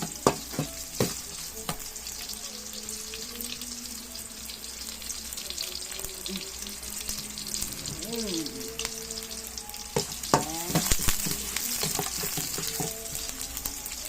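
Garlic and onion sauté in a hot pan while steady sizzling and frying hiss run throughout, broken by stirring clatter and a brief burst of running tap water near the middle.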